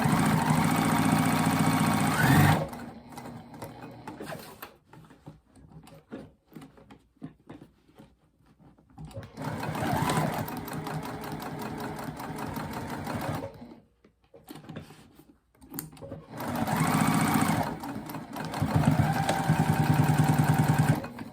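A sewing machine stitching a seam and stay stitches across the top of a boxed-bottom retreat bag, three sustained runs of steady mechanical whirring, close and fairly loud, separated by quieter pauses with faint handling sounds.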